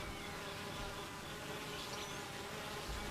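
Honey bees hum steadily inside their hive, a dense, constant buzz of many insects at low level with no pauses and no voices.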